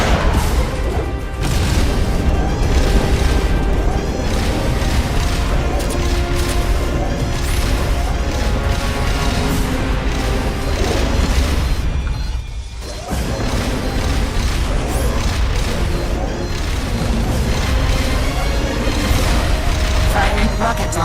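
Repeated heavy booms of a rocket launcher firing in Metal Gear Solid: Peace Walker sit in a loud, dense wash of battle noise and music, with only a brief dip near the middle.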